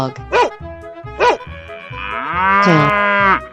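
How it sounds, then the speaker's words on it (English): A cow moos long and loud in a 3D animal slide video game, after two short dog barks, with game sound effects continuing underneath. "Cow."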